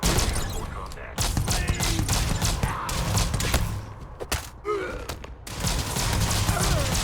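Rapid EM rifle gunfire in the video game Starfield crackles in dense bursts amid combat effects and shouted dialogue, with a few brief gaps between volleys.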